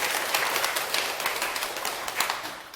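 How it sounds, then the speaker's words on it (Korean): An audience at a meditation lecture claps steadily for several seconds, many hands together in a dense, even patter from a moderately sized room, with no talking over it. "박수 한번 부탁드릴게요."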